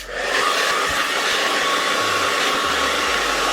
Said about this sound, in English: And then use my blow dryer to seal it.